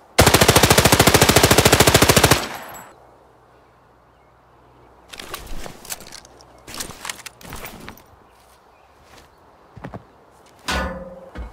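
In Arena Breakout, the TS-5 fires a loud, rapid automatic burst of about two seconds, followed by quieter thumps, clicks and handling noises and a short sharp burst near the end.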